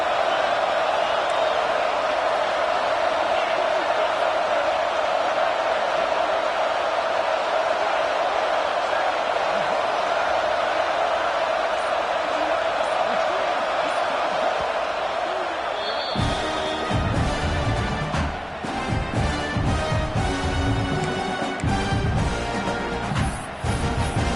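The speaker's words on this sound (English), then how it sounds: "Third down, and the crowd really getting into it." A stadium crowd roars in the College Football 26 video game, a loud, sustained wall of cheering on third down that carries on throughout, joined midway by brighter clattering bursts and overlapping voices.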